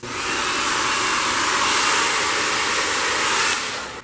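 A heat tool blows hot air onto a plastic cover on a chair seat, a loud, steady, close rushing whoosh that holds for several seconds before easing off at the end.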